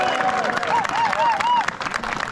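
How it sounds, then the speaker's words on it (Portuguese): A group of cyclists at a cycling-tour gathering at a country farm near Campo Largo breaks into a short burst of clapping and cheering, with crowd chatter and raised voices mixed in. "E eles vão ajudar muito mais se a gente der uma salva de palmas para Ataque."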